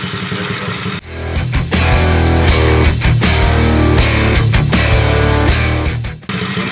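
A Coolster 110cc dirt bike engine running after a carburetor change, a loud, steady close-up idle that rises and holds with brief dips, alone with no talk.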